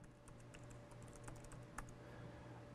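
Keys tapped on a computer keyboard while typing a name into a spreadsheet, soft quick clicks at an irregular pace over steady low room hum, with one slightly louder keystroke near the end.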